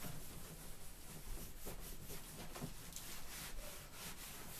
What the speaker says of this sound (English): Just use a rag to remove any excess.